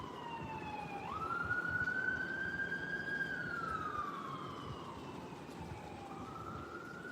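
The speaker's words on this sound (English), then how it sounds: "Here comes the siren." A siren wails steadily, rising and slowly falling in pitch as it passes at moderate distance over constant traffic noise.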